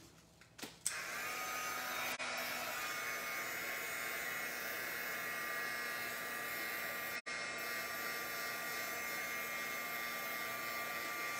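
A heat tool whirs steadily as it warms embossed vellum, a constant fan-driven hum and hiss that starts with a click and runs for several seconds with one brief dropout, no talking.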